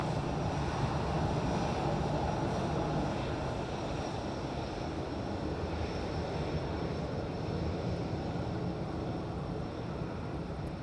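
Aircraft taking off at Madeira Island Airport, a steady broad engine roar that is loud and continuous, holding at an even level with no speech.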